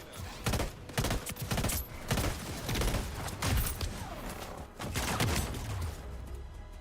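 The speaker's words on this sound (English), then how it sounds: "Two of them using shotguns" Shotgun blasts from two players trading fire in Splitgate 2, a dense run of loud, overlapping gunshots and explosive bursts packed across the whole stretch with game effects.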